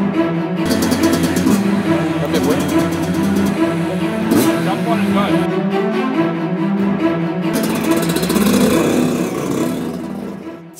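Yamaha 85 dirt bike engine revving in a backyard, a steady mid-pitched motor drone rising and falling in surges, with people talking over it.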